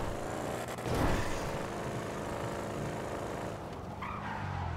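A car drives and skids in the GTA V video game, a faint tire screech rising near the start over a steady engine hum, with a brief sharp squeal later on and no speech.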